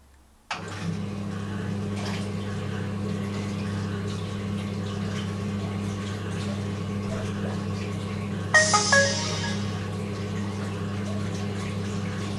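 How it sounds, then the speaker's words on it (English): A large mixing pump in a main reservoir starts after a short silence and runs with a steady mid-low hum, with a brief watery splash burst partway through; no one speaks. "The main reservoir big mixing pump has started up."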